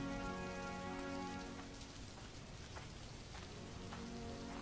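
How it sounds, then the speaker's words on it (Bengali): Heavy rain in a cartoon, a dense, continuous patter of drops on surfaces, loud and close, with a faint tonal hum fading out early on. "এত বৃষ্টি আমি আমার জীবনে দেখিনি গো"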